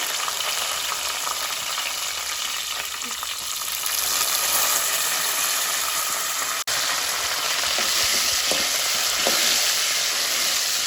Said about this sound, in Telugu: తాలింపు వేసి చూసాను కదా